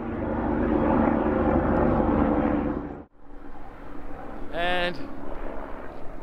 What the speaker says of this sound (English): There's a helicopter in the background.